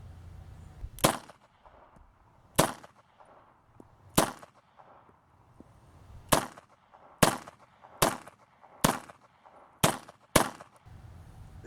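Nine sharp 9mm pistol shots from a Tokarev-design handgun fired with streak visual ammunition, spaced irregularly about a second apart, each a loud crack with a short decay and no talking.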